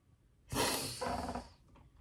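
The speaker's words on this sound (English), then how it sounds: "sorry for all the sniffling" A close, wet allergy sniffle drawn in through the nose, followed by a second shorter sniff, with no talking around it.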